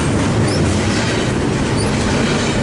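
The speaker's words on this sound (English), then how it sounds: "But it looks like this one is also a pretty long port stacker as well" A long westbound port stacker freight train rolls past at Commerce, a dense, loud, continuous rumble of wheels and cars with faint squeals, close by.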